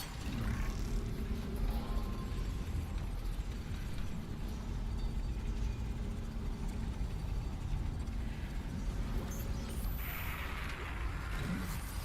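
Spaceship engines in the Dead Space video game starting up as a steady, dense mechanical rumble with hiss, holding at an even level for about twelve seconds, with a brief brighter burst near the end and no speech.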